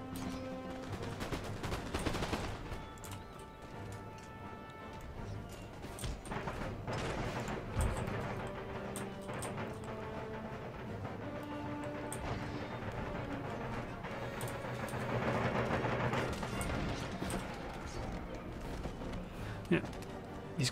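Musket volleys crackle from soldiers in Empire: Total War, a dense scatter of sharp shots and ragged fusillades firing over a wall amid battle noise, continuous throughout with someone talking over it.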